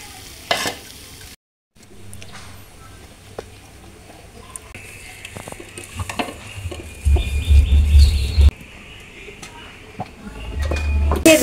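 Mustard curry with eggplant fries and is stirred in a pan, with a soft sizzle and intermittent scraping. Louder stirring bursts come later, alongside occasional talk and faint bird chirps.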